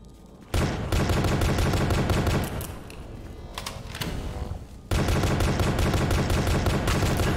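Rapid automatic gunfire in the monochromatic horror game The Pony Factory, dense continuous bursts of loud close shots with a brief lull midway before the firing resumes at full intensity.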